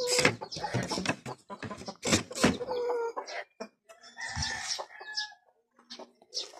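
Hens cluck and cackle close by in irregular bursts, with a few louder squawks and brief pauses between calls.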